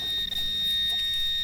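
A Nokta Simplex Plus metal detector with an SP24 coil emits a loud, steady high-pitched signal tone that holds throughout the brief moment, over faint outdoor background noise.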